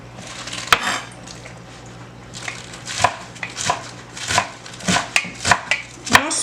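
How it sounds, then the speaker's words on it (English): Fresh spinach chopped with a knife on a board, a loud close series of irregular thuds and clacks that quickens toward the end, with no talking. "And I'm cutting my spinach up like this."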